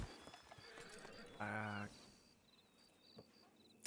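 Horse in a Red Dead roleplay game giving a short, loud whinny midway, with clip-clop hooves and faint crickets around it while people talk.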